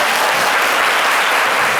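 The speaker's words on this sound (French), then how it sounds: "On applaudit alors." A television studio audience applauding, a dense, even wash of clapping hands that holds at full strength for the whole short stretch.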